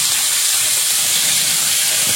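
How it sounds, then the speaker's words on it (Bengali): Panch phoron spices hit hot oil in a home kitchen pan, a loud, steady, bright sizzling hiss that fills the whole moment without a break and with no voices. "এদিকে তেলের মধ্যে একটু 5 ফোড়ন তেলে দেবো"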